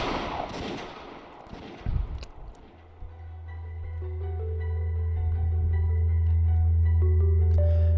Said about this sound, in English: They certainly heard the crisp sound of gunfire ringing out once.